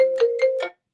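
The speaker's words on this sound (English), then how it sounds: "Wow, the phone lines are buzzing." A telephone ringtone on a radio call-in line, one loud electronic tone with three quick warbling pulses, close and clear, ending abruptly with silence after.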